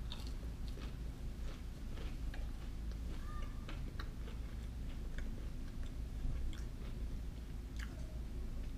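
Someone chews Doritos Loaded Cool Ranch and Jalapeno Cheese snacks, oven-baked with cheese inside, with repeated soft crunches and bites close to the mic over a low steady background.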